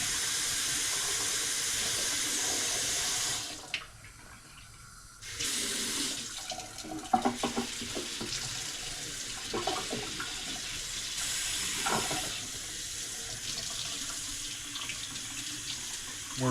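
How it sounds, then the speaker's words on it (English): Running tap water rinsing salt water off a muskrat hide, a steady rushing stream that briefly stops and restarts, with splashing and handling as the wet hide is worked under the flow. "We're rinsing that salt water off"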